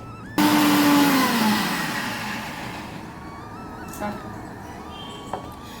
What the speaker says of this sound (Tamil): கொஞ்சம் தண்ணி விட்டு நல்லா அரைச்சிடுவோம்